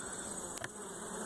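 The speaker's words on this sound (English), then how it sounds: "Happy bees." Honey bees hum around a beehive in a bee yard, a faint steady drone with a brief close buzz of a single bee passing near, no talk.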